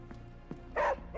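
Charlie the dog in Marvel's Midnight Suns gives two short, soft yips followed by a louder, clearer bark near the end, all close by with no talking.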